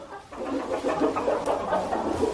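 Several chickens cluck and murmur continuously inside a barn in winter, close by at moderate volume, with overlapping soft calls and no talking.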